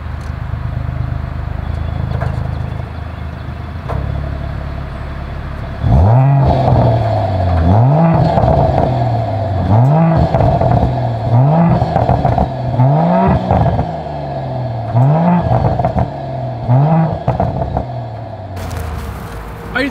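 A 2024 Mercedes-AMG GLE 53 Coupe's exhaust revved at a standstill, about seven rising-and-falling blips in steady rhythm after a low idle, loud and close with a throaty burble between revs.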